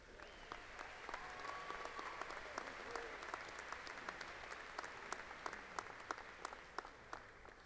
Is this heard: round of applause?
yes